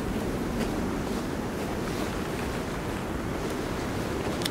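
Steady wind gusting across an outdoor forest scene in the survival video game Sons of the Forest, a continuous broadband whoosh with no talking.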